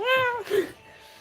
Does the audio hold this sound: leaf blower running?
no